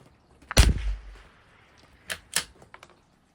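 Single rifle shot from a Savage MKII BTV at a 200-yard range, a sharp loud crack with a short decaying tail, followed by a couple of fainter distant reports or target hits.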